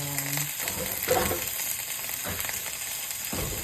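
Onions and peppers sautéing in a pan, a close, steady sizzle with spatula scrapes and stirring bursts throughout.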